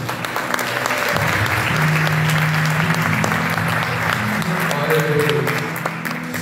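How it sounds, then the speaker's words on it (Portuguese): Church congregation applauding Jesus with hands raised above their heads, sustained loud clapping from a crowd, with voices speaking and calling out over it. "vamos aplaudir o Senhor Jesus, o Rei dos Reis"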